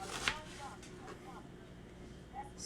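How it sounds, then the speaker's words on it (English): A knife chops onions for coleslaw: one crisp close knock, then a few faint taps under quiet room noise. "so I'm putting onions in it"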